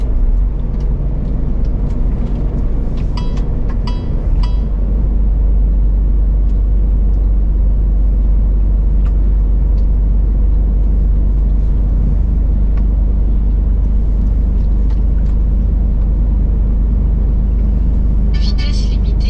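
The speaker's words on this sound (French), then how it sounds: "Quand on voit le nombre de véhicules qui passent par là" Vehicles pass steadily along a small country road with an 80 km/h limit, a constant low traffic rumble loud and close with occasional hisses and clatter; a person talks over it.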